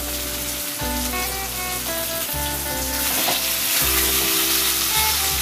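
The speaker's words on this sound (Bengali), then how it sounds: "এই মশলাটাকে কষতে হবে ভালো করে।" Chili and cumin powder spice mix fries in a pan, a loud, continuous close sizzle with intermittent scraping and stirring clatter throughout.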